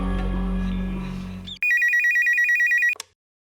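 After a brief tonal passage fades out, a telephone rings in one rapid, pulsing electronic trill lasting just over a second, loud and close, then cuts off.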